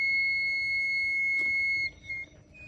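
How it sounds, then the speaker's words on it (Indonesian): The buzzer on a smoke and temperature sensor gives a steady, shrill electronic tone that holds for nearly two seconds, then stops, followed by a short fainter beep. "Dan ini naik 27 maka buzzer akan menyala."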